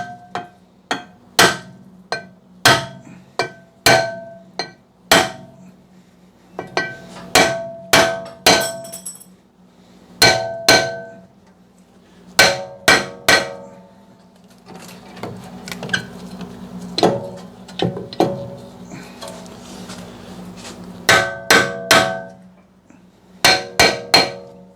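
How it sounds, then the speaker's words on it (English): A dead blow hammer whacks a wheel hub on a 2006-18 Lincoln MKX to free a rusted rear rotor. Loud, sharp blows land in quick clusters of two to four, with short pauses between bursts and nothing else heard. "I'm going to give it a couple of good whacks on the hub"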